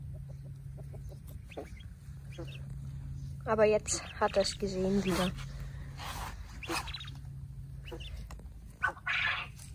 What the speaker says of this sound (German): Das war jetzt der andere Hahn